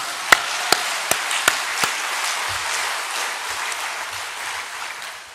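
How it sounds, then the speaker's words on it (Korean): A congregation claps during a Christmas church service, a handful of distinct loud claps first, then a steady, softer patter of applause that slowly tapers off. "우리 박수 한번 합시다"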